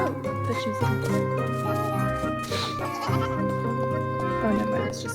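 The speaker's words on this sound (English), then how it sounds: "Oh, never mind, it's just a goat." A goat bleats in a video game, a drawn-out wavering cry with strong tonal harmonics that carries on for several seconds, loud and close.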